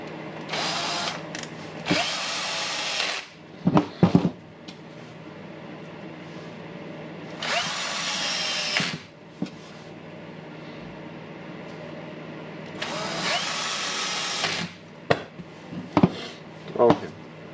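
A Milwaukee M18 FPD2 cordless drill motor spins up in several loud, whining bursts of a few seconds each. Between bursts come clicks and handling noise, and a person speaks briefly.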